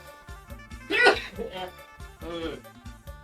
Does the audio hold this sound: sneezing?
yes